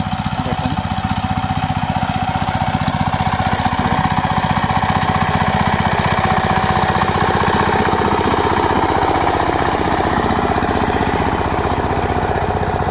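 A farm tilling machine's engine runs steadily in a field, a loud, continuous mechanical drone with a rapid chugging pulse that stays even and close throughout.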